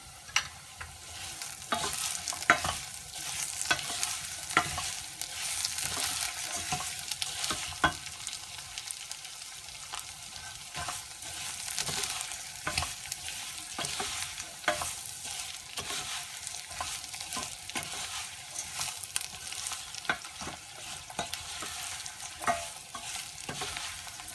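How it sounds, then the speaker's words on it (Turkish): Rice for a chickpea pilaf is roasted and stirred in a pot, a constant dry crackling sizzle punctuated by repeated sharp scraping strokes of a spoon at an irregular rhythm, close up with no talking. "Pirinçlerim yeterince kavruldu."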